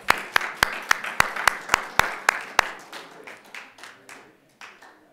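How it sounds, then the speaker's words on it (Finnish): Congregation at a church worship service claps for a newly welcomed pastor: a steady run of sharp, evenly spaced hand claps that thin into scattered, fading applause, heard alone without talk. "Annetaan hänelle aplodit."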